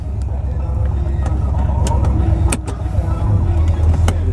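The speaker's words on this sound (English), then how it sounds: "we're gonna do a little bit of city driving, go over some bumps and hills and potholes" A car drives on city streets over bumps, hills and potholes, heard from inside as a loud, steady low engine and road rumble with a few sharp knocks and rattles.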